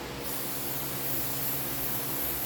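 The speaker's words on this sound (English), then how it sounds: "I'm also going to spray up here" Glue sprays from an aerosol onto the headliner of a 1987 Dodge D100 truck as a steady, close, continuous hiss lasting the whole stretch, with no speech.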